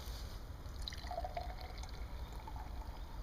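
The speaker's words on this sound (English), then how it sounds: "Let's pour it up." Colt 45 Double Malt malt liquor pours out of the can into a glass outdoors, a quiet, steady trickle with soft splashing and bubbling that continues throughout, faint and close.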